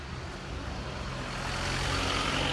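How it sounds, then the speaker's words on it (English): A UPS delivery truck passes near a home garden in Phoenix, Arizona, its broad engine rumble and road noise swelling steadily louder over a few seconds with no voices. "UPS delivering, sorry for the noise."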